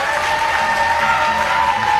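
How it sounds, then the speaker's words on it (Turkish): A studio audience on a Turkish Wheel of Fortune game show, Çarkıfelek, bursts into loud, sustained applause, a dense wash of clapping filling the whole short moment. "Evet, şimdi bir kuvvetli moral alkışı."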